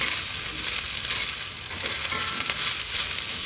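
Cloves, black pepper and cinnamon frying in a pan give a steady, close hiss of sizzling with faint stirring scrapes, no voices over it.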